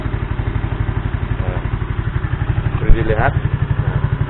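Yamaha Mio motorcycle engine idling close by with a rapid, steady pulsing putter, rising briefly as the throttle is opened, while someone talks over it.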